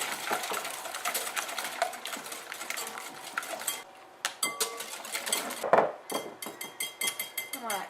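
Eggs and sugar whisked in a bowl for chocolate fondant: a fast, continuous metallic clatter of whisk against bowl, pausing briefly, then resuming in quick rhythmic strokes.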